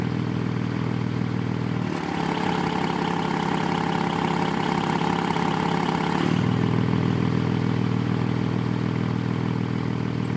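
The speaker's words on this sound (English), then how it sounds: "As you put it in sport, you can notice a slight subtle difference in exhaust note." A steady Porsche sports car engine idles loud and close, and about two seconds in, after switching to sport mode, its exhaust tone drops and thickens for roughly four seconds before returning.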